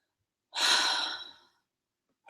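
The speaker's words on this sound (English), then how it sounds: "take a deep breath in and an exhale" A single deep breath is drawn in and then let out as a soft, airy sigh, close and alone in a quiet room, with a fresh breath starting just at the end.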